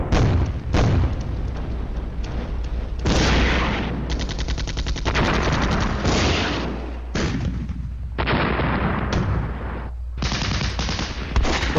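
Counter-battery artillery fire in a combat video game: dense, loud bursts of gunfire and heavy booming blasts, with rapid machine-gun-like rattles that keep going for the whole stretch, barely pausing.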